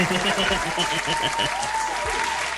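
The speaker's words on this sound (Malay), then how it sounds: "Tepuk tangan sikit." Clapping from a small group in a podcast studio, brisk and steady for a few seconds, close and lively with some voices mixed in.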